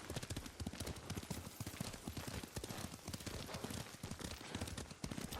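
A horse ridden in Ghost of Tsushima clip-clops in a quick, steady rhythm of close hoof strikes, faint and continuous throughout.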